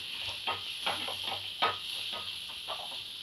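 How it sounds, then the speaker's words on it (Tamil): A spoon works asafoetida into tomato masala in a pan for a green sundakkai kulambu, making a quiet, rhythmic scrape-and-sizzle of repeated stirring strokes with no voices. "பெருங்காயம் சேர்த்து மிக்ஸ் பண்ணி விட்டுக்குங்க."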